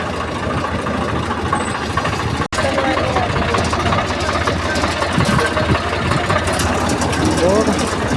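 A tractor engine runs steadily at a low rumbling idle throughout, a constant mechanical drone close by with a brief dropout, while people talk over it.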